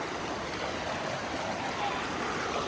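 A clear monsoon stream at Khandi near Pune rushes steadily over rocks, a continuous close, fairly loud wash of water with no break across the moment.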